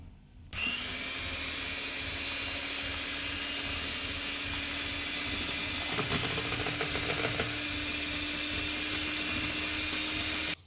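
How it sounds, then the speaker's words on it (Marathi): An electric beater whips cream for homemade vanilla ice cream, a steady, loud motor whine that starts abruptly and holds constant, with a brief rattling patch partway through as the beaters knock the bowl. "आता ह्या बिटरच्या साह्याने आपल्याला फेटून घ्यायचं आहे आपल्याला"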